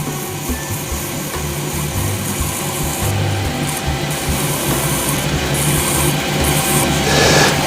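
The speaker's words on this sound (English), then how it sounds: "I'm just going to sort of very, very lightly touch up all the details because I don't want to sand through it" Sandpaper rubs lightly over a wooden shaving brush as it spins on a lathe. The motor whirs in a continuous close drone beneath a soft, even scratching, with no voices.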